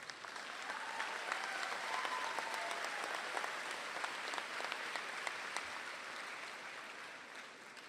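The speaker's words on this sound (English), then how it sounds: "we can give them a round of applause" Steady applause from a large audience at the 2024 Marion Harding High School graduation ceremony, a dense wash of clapping that holds evenly for about eight seconds before easing slightly at the end.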